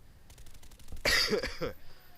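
A single rough throat-clearing cough from a person getting over a cold cuts in sharply, close and fairly loud, over faint background noise.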